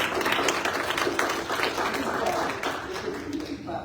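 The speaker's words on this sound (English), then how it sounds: "Clap for yourself." An audience applauds at a public service panel, giving a dense, steady wash of clapping that stays fairly soft throughout.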